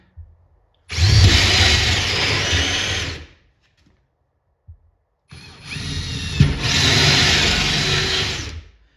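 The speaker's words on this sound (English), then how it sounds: "now that we have those drilled halfway through" A power drill bores holes partway through a multicade arcade cabinet panel in two loud, close bursts of steady whining, each lasting a few seconds, separated by a brief quiet pause with small handling clicks.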